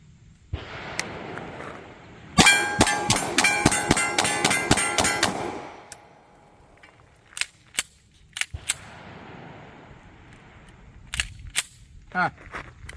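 Rapid string of loud 9mm gunshots from a Dan Wesson TCP 1911 pistol, about nine sharp cracks in quick succession with ringing echoes, then a few scattered metallic clacks and handling noises.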